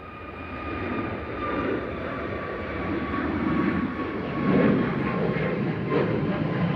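A Boeing 737 MAX 8 at Manchester Airport gives off a steady, broad jet engine roar that holds at a fairly even loudness and swells slightly toward the end, with no voices.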